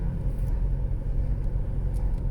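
Cars drive along the lakeside road at Lake Annecy on a sunny June Sunday, a steady low traffic rumble nearby with faint brief ticks on top.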